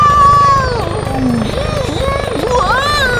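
A large firefighting helicopter gives off a rhythmic rotor chop and a low engine rumble, with gliding voice-like tones layered over the top.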